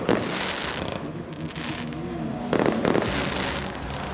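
Fireworks burst over the Francorchamps race circuit at nightfall, a loud, continuous stretch of crackling and booming explosions that surges again near the end.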